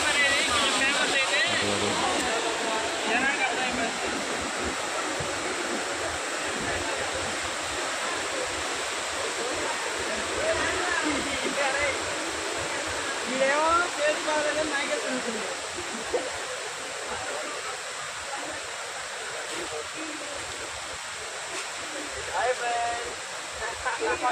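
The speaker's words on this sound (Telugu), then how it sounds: "వాటర్ మటుకి చాలా వేగవంతంగా వస్తున్నాయి. సౌండ్ చూడండి ఎంత బాగా వస్తుందో." Loud, continuous roar of rushing water pouring down a waterfall, steady throughout, with occasional voices faintly underneath.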